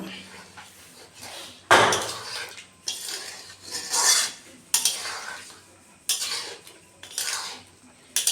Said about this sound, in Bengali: আমি এখন একটু গরম মশলা দিয়ে দিচ্ছি ভালো করে একটু মিলিয়ে নেব